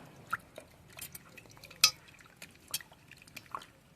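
Pointed gourds are washed in a pot of water: scattered drips, splashes and light knocks of the vegetables and pot, with a sharper clatter near the middle, close and fairly quiet.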